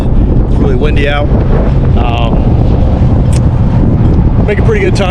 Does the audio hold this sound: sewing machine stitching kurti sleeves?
no